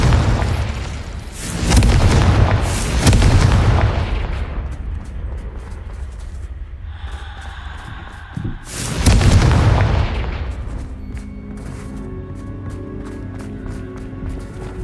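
Explosive Confringo spell blasts in Hogwarts Legacy, with two heavy booming bursts a few seconds apart, each trailing into rumble, separated by a brief shimmering magical tone.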